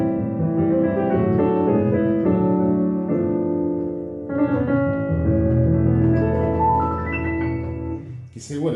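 A piano plays a gospel ending: rich sustained chords moving step by step, then a held low bass chord and a final high flourish, clear and up close.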